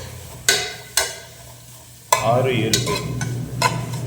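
Onions added and stirred in a pot for mutton biryani: several sharp scraping stirs and clanks of a spoon against the pot, followed by a soft sizzle, close up, with a brief voice.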